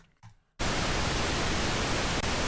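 After a brief quiet moment with a faint murmur, a loud, steady wash of pink noise switches on and hisses evenly to the end.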